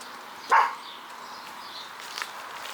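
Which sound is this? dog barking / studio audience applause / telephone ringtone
dog barking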